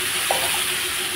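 Cauliflower stalks go into a hot pan while cooking duck egg curry, raising a steady, close frying sizzle with a brief soft clatter near the start and no talking.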